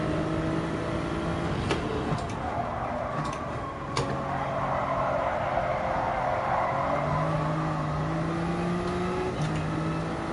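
Race car engine during a lap in a racing game, a steady whining drone whose pitch rises and falls as the car brakes and accelerates through a tough corner, with a few faint ticks; no talking.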